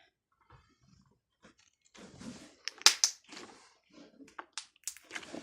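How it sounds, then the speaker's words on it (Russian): Ninja Slime stretched slowly by hand gives off a run of small crackling, crunchy pops, close and fairly quiet, coming in irregular bursts with short pauses between them. "только вот так вот хрустит."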